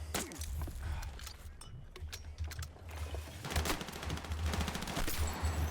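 Rapid bursts of automatic gunfire in Battlefield, a multiplayer shooter, rattle out in clustered volleys across the clip, some close and loud, others more distant, with brief lulls between exchanges.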